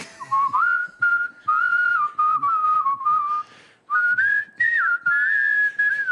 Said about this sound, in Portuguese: eu fiquei mais impressionado com o lance de assobiar